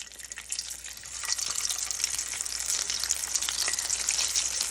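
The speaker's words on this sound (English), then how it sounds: "I'm going to fry these until they're nice and golden brown." Stuffed potato skins deep fry in hot oil at about 352 degrees, a dense, steady crackling sizzle that grows slightly louder and busier, heard close and alone.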